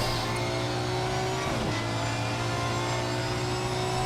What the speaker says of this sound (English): using one of the best sounding car of the pre 2016 car, Aston Martin V12